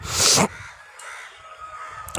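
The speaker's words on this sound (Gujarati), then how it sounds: "કાગડો અહીંયા બોલે છે" A single loud crow's caw nearby, followed by quieter ambient sounds and a faint distant call.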